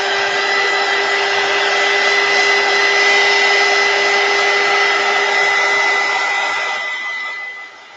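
A heat tool or hair dryer blows steadily over a mixed media page, a loud, close, continuous whirring hiss with a faint tonal whine that holds evenly before winding down at the end.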